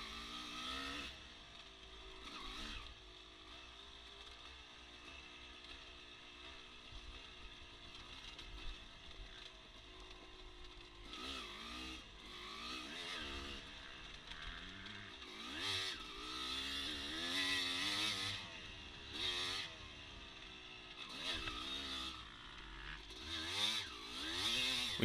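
A dirt bike engine revs and drops continuously while racing through an S-turn on the motocross section of an off-road GP course, with other bikes buzzing nearby.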